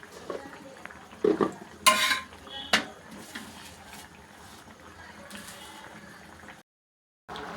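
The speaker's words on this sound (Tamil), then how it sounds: "உப்பு சேர்த்துட்டு நல்லா கிண்டி விட்டுக்கிறேன்" A spoon scrapes and knocks against a metal pot of mushroom gravy in a few short bursts, then the stirring goes quiet, with no talk.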